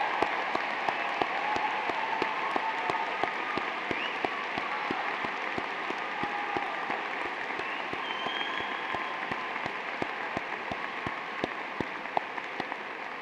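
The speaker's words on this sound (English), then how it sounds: "I ask all UNI alumni in the audience to please stand and applaud the newest members of the UNI alumni family." A large audience at a UNI spring commencement applauds the new graduates, steady dense clapping filling a big hall and lasting throughout at an even level.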